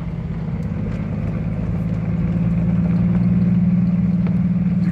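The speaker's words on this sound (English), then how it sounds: "The carbureted Jeep ain't doing too bad." Carbureted Jeep engine idling high in mountain country near 7,000 feet, a steady low droning hum that grows slightly louder over several seconds, close and without talk.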